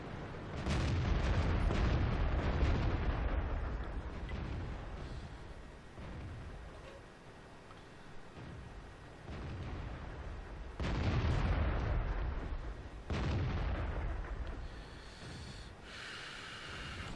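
Tank cannons firing and shells striking armor in World of Tanks, heavy booming blasts and rumbling impacts that swell and fade over a noisy battlefield, several separate bursts, with no talking.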